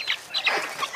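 A few chickens cluck close by in short bursts, with a brief flutter of wings and no voices.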